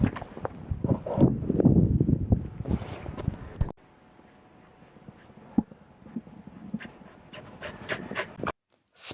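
A dog pants rapidly and close in cold winter weather, a rhythmic burst of breathing that gives way to quieter panting, with some wind noise on the microphone.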